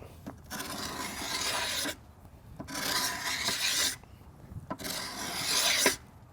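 A tool's edge scrapes along an Osage orange recurve selfbow in long, pressured strokes, giving three or four loud, raspy passes with short pauses between them, close up, with no talking.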